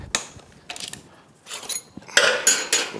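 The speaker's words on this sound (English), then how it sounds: "Next, let's get our axle bolts out." A ratchet wrench loosens the axle bolts on a Honda Grom motorcycle, with short bursts of clicking and scraping separated by brief pauses up close, and no talking.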